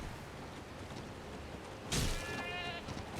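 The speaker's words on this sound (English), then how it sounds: "Will you get out of my way, you stupid goats?" A single goat in the video game Elden Ring lets out one short, wavering bleat midway through, fairly close, over a steady bed of ambient game noise.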